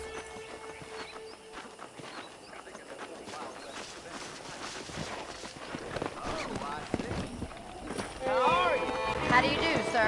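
Horse hooves clip-clop in Red Dead Redemption while wrangling horses, a faint irregular patter of hoof strikes among other game sounds, growing busier and louder toward the end.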